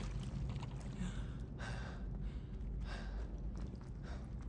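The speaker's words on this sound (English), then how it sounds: "He's breathing like he just swam for his life" A Hogwarts Legacy character breathes heavily in a prefect's bathroom pool, with rhythmic, close gasping inhales and exhales repeating about once a second over a low, steady background.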